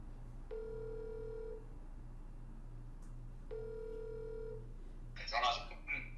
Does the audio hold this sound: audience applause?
no